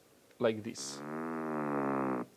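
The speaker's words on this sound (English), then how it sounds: "If you behead a deer just above the larynx and the deer still makes a roar, it will sound" A roar forced through a deer larynx, with the head removed just above it. After a brief spoken phrase, it comes out as a sustained, buzzy, harmonic drone lasting about a second and a half, fairly close, then stops abruptly.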